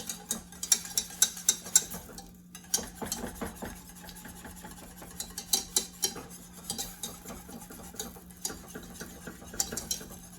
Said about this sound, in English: I'm just gonna constantly whisk it as it's thickening up to break up the flour.